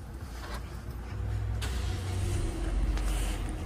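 A Jetour X70 II SUV starts up by push button, with a low, steady engine rumble that rises and settles into a close, even idle; no one talks.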